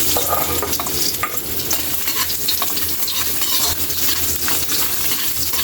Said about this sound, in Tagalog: Kylie, ilagay na natin yung luya